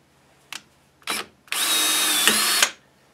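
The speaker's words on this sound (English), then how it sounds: "And next, we'll put a rivet in." A rivet set into thin conduit for a homemade flag pole, with two short bursts of a power tool followed by one sustained, close, loud whir that holds steady and then cuts off.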